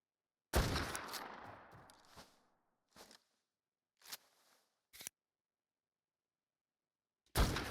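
Gunshots fired at an alpha T-Rex in ARK: Survival Evolved on the Valguero map. A loud first blast rings out with a long trailing decay, followed by several sharper, shorter shots spaced a second or so apart, then a final loud report.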